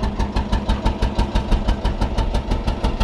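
A diesel engine idles steadily on ordinary diesel fuel, its rhythmic knocking pulses repeating evenly at close range, loud and alone with no talking.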